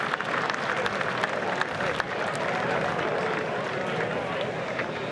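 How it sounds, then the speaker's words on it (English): Sustained applause and crowd noise from the golf gallery around the green in the Masters final round, a steady broadband roar of clapping and murmuring spectators with scattered sharper claps, continuous throughout at moderate distance. "And the applause will grow."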